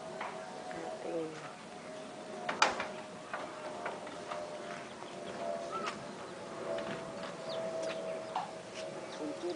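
Chickens clucking around a house yard: scattered short clucks and chirps amid ambient noise, with one sharper knock-like sound and a faint steady hum, not very close.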